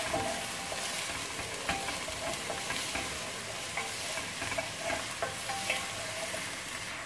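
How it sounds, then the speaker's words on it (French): Lamb pieces browning with onion in a pan for a prune and raisin tajine give off a steady, close sizzle with a few scraping stirs, and no voices. "je rajoute un morceau de viande, donc là c'est de l'agneau, que je fais revenir avec l'oignon"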